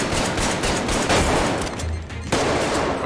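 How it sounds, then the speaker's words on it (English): Dense, continuous gunfire from a VR shooter game Arktika.1, a loud, broadband rattle of rapid shots running steadily through the clip with a brief dip near the end, no talking. "I'm gonna shoot you through this hole."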